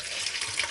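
Liquid pouring into a mixing bowl while making vegan hot cross bun dough, a brief close splashing gush with a trickling, faucet-like wash.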